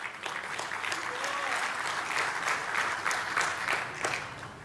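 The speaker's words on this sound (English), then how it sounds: "Let's give them a round of applause." Audience applause at the Land Forces Conference of the Pacific 2024, a sustained wash of clapping from a large room that holds steady for several seconds before tapering slightly at the end.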